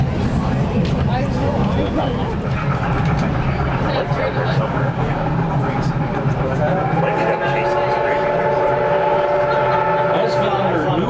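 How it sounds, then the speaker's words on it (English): Steam locomotive 2102 sounds a long whistle for a road crossing as the train passes through New Ringgold, the steady tone sustained over rumbling rail noise and nearby chatter. "2102 whistles for the Route 895 and 443 crossing or Hughes Street."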